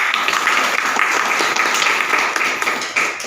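An audience at a Brahma Kumaris spiritual talk in Bhandardara bursts into applause, a dense, continuous patter of many hands clapping at once that holds steady for a few seconds before easing slightly.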